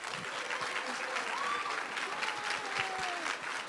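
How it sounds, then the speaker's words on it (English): Applause from the audience at a school board meeting after student names are read out, a steady wash of clapping from many hands for several seconds, moderately distant, with faint voices mixed in. "Let's give them a round of applause."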